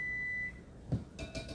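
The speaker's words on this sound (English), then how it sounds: "Oven just beeped." An oven in a home kitchen gives one sustained electronic beep that ends after about half a second, followed by faint kitchen clatter.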